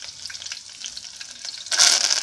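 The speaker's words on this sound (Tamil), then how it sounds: "ஸோ கருவேப்பிலை சேர்த்துருந்தாச்சு இப்போ நல்லா வறுபடட்டும்" Curry leaves crackling in hot oil alongside dried red chillies for a homemade narthangai pachidi, a steady close sputter that bursts into a louder, brighter spitting sizzle near the end, with no talk.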